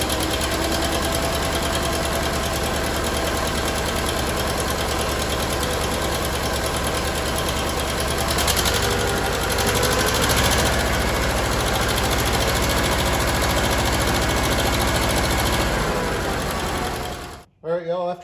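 A John Deere-style D17 tractor engine is not specified by make, so: a D17 tractor engine with a new head gasket runs at a steady, loud, rough idle with a constant knocking rhythm for most of the stretch, then cuts off abruptly near the end.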